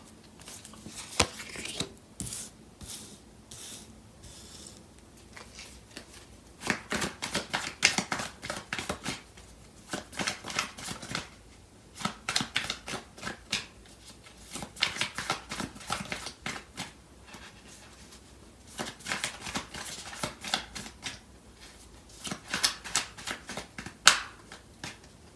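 Tarot cards being shuffled in repeated riffling bursts, soft close crackling flurries separated by brief pauses across the whole stretch, with no talk.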